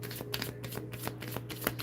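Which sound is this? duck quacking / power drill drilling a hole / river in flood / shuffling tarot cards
shuffling tarot cards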